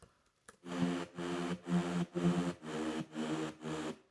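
Unfiltered synth bass for an Afro House track with its full upper frequencies left open, playing seven evenly spaced sustained notes in a steady rhythm, bright and buzzy, loud and close with no voices.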